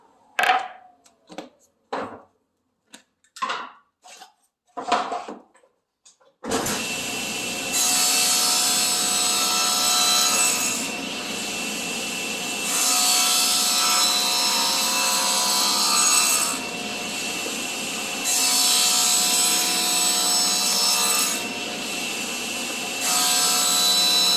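Saw cutting miters on large wooden panels: a steady, loud sustained cutting roar that runs continuously with slight swells in level, preceded by a short series of sharp knocks and taps.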